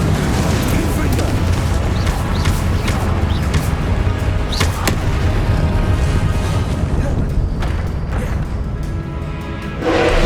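Booming explosive blasts from the Confringo spell in Hogwarts Legacy on PS5, heavy rumbling impacts with whooshes layered over a dense game soundscape, continuous through the stretch.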